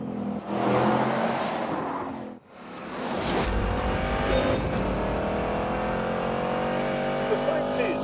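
A muscle car's push-rod, two-valve iron engine roars while driving in The Grand Tour game, revving loudly with rising pitch after a brief dip, sustained and close throughout.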